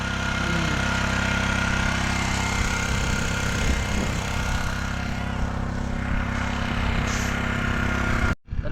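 A farm machine's engine drones steadily on a farm in Konkan, running continuously at a constant pitch, loud and near, cutting out abruptly at the very end.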